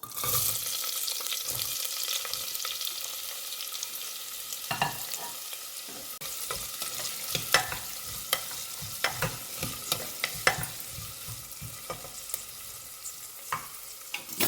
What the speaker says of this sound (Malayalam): നമുക്ക് അരിഞ്ഞു വെച്ച സവാള ഇതിലേക്ക് ഇട്ട് കൊടുക്കാം